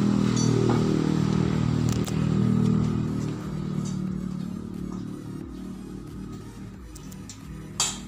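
A Yamaha F1ZR two-stroke motorcycle engine, still fitted with its original rectifier, starts at once and idles steadily close by, with a low continuous rumble and a brief sharp knock near the end.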